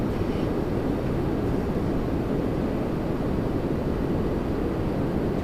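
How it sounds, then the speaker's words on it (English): An Embraer jet landing at Toronto Pearson produces a constant, moderately loud engine rumble that neither rises nor fades across the stretch, with no voices. "Another Embraer coming in."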